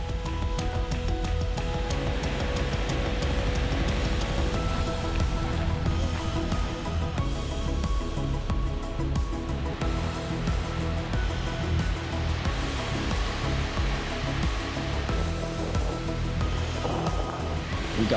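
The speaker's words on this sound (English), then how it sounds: "another huge waterfall." Skogafoss, a huge waterfall in Iceland about 200 feet tall and 82 feet wide, roars as a loud, steady broadband rush of falling water and spray that holds unbroken from start to finish.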